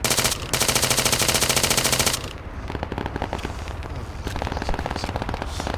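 Semi-automatic 6.5 rifle fire in ARMA 3, opening with a dense, loud burst of rapid shots, then a string of separate cracks at an uneven pace, close and prominent.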